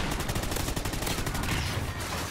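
Continuous rapid automatic gunfire from the shooter game Call of Duty Ghosts on PS4, loud and close, with dense crackling bursts running through the whole stretch.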